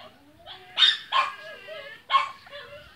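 Small Pekingese dogs bark several times in sharp, high yips with gaps between them, somewhat distant, while a low hum runs under them.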